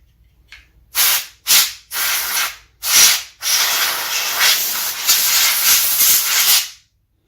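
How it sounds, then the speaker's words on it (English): Compressed air blasting dust off the inside of a gaming PC, loud close hissing bursts, several short sprays in a rhythm followed by one long continuous blast that cuts off abruptly. "let's hit this with the compressed air"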